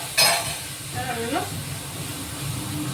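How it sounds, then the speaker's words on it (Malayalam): Sliced onions sizzle steadily in a pan while a potato curry is cooked. A short scrape of stirring comes near the start, and someone talks over the soft, continuous frying hiss. "സവോളയൊക്കെ നല്ലോണം ഒന്ന് ഫ്രൈ ആയിട്ടുണ്ട്"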